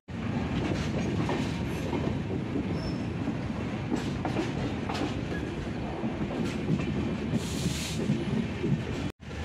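Mandovi Express running on rails, with a steady loud rumble and rhythmic clatter of wheels throughout, a brief squeal near the end as the train approaches a station.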